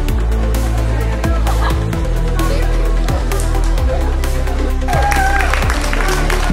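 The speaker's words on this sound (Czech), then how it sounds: "velký potlesk pro ně" Sustained crowd applause and scattered cheering for the race winners at the T-Mobile Olympic run in Strakonice, loud and steady throughout, with a few voices mixed into the clapping.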